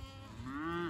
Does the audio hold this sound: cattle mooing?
yes